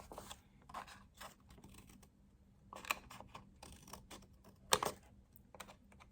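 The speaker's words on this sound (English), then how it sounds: "now I'm going to cut the paper at the angle so it's easier to glue nicely" Scissors cut paper for a beach clutch craft project, making quiet, irregular snips and crisp clicks spread over several seconds against a soft room background.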